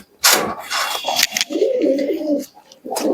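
A teddy pigeon gives a steady, warbling coo lasting about a second, nearby, preceded and followed by bursts of handling noise and rustling.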